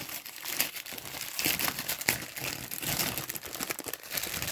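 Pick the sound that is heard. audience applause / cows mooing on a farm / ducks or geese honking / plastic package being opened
plastic package being opened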